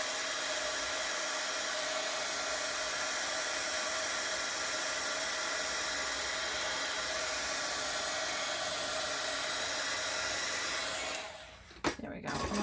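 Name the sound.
heat tool drying spray ink on planner page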